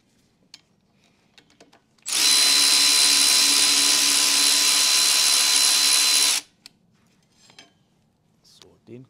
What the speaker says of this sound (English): Next thing is removing the brake calipers.